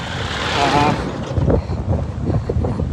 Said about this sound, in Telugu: గాలి కూడా ఎక్కువ వేస్తుందండి ఎదురుగాలి సైకిల్ తొక్కలేకపోతున్నాం